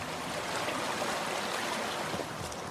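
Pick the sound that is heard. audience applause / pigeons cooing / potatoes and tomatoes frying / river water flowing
river water flowing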